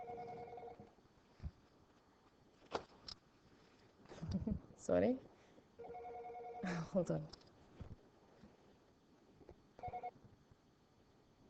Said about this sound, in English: That was the phone.